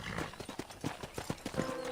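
Horse hooves clip-clop in the Red Dead Redemption video game as a steady, moderately close trotting rhythm on hard ground, with faint game sounds and a hint of speech underneath.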